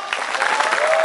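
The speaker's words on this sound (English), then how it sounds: "Big round of applause!" A crowd applauds at a book launch on stage, dense steady clapping filling the whole moment without pause.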